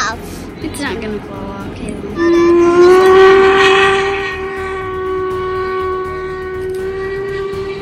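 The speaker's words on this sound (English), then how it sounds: "The famous Jacobite steam train runs every summer and leaves from the Fort William station" Whistle of the Jacobite steam train crossing the Glenfinnan Viaduct in the Scottish Highlands, a loud, sustained tonal blast that starts after about two seconds and holds to the end over rumbling outdoor noise.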